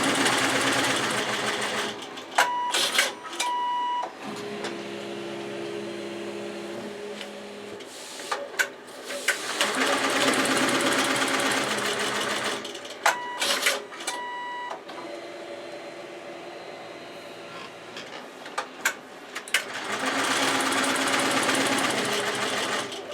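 A computerized embroidery machine sews a wide basting stitch on an in-the-hoop boxed bag. Its rapid mechanical chatter runs in long, steady bursts separated by short pauses and clicks, close and fairly loud, with no talking.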